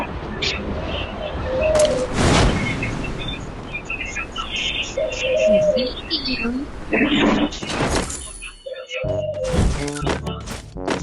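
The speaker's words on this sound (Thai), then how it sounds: "เสียงนกฮูกร้องเหรอ" An owl hoots in the mobile battle game Free Fire, a few soft curving coos amid game noise and sharp clicks, with people talking over them.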